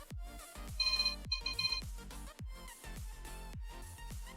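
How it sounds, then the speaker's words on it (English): A phone rings with an incoming call during a first PC build, a repeating electronic ringtone melody in short bursts, fairly clear and steady with no talk over it. "And I'm getting a phone call."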